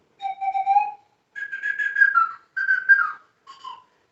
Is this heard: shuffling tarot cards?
no